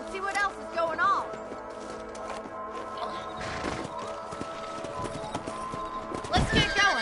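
Horses' hooves clip-clop over ground in the Western video game Red Dead Redemption, a steady trotting rhythm under continuous game sounds, with a few louder thuds near the end and no talking.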